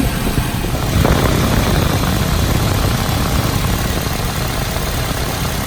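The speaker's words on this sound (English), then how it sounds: "Just to show that the radiator fan is blowing at full blast now." A Nissan Cube radiator cooling fan runs at full blast, producing a steady, loud broadband whoosh with a low engine-like rumble underneath, unbroken throughout.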